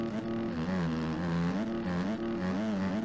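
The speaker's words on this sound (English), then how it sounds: "it feels like I'm revving out really quickly" A motorcycle engine in the racing game MX Bikes drones and revs in repeated rising and falling surges, steady and prominent with no voices.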